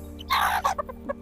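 A bantam chicken clucks nearby, one louder burst followed by several short soft clucks, with a faint low hum underneath.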